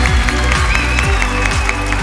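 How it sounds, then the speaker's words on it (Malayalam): Audience applause at a music show after a young singer's song, a steady dense clapping wash that fills the whole moment without a break. "ഒരു നല്ല കൈയടി കൊടുക്കൂ"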